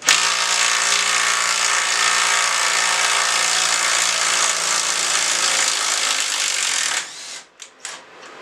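A cordless drill driver loosening a clamp runs as a steady, buzzing motor whine for about seven seconds, then cuts off, leaving a few brief clicks and handling noises.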